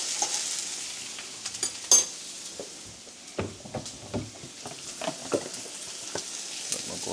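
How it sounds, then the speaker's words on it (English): Onions and tomato fry in oil in a pan, giving a steady soft sizzle broken by scattered crackles and the clatter of stirring close by. "So I'm just going in, frying these off."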